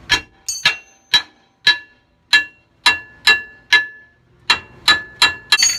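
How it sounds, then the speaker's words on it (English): A hammer strikes metal repeatedly while a rear strut assembly is replaced on a 2008 Ford Expedition, about a dozen sharp, ringing clangs in an uneven rhythm with short pauses, loud and close, with no talking. "Get your hammer to help you out a little bit."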